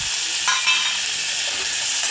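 Chopped onion and tomato frying in hot oil in a pan, heard as a loud, continuous hiss with a few light clinks of a spoon being stirred through, and no voices.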